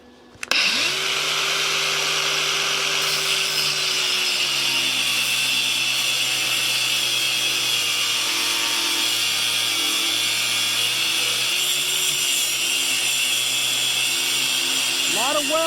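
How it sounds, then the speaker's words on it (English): A new cutoff wheel grinding through the metal frame of a Monster Moto mini bike, a loud sustained whine starting abruptly and holding steady with slight pitch dips as it bites. "So this is a new cutoff wheel."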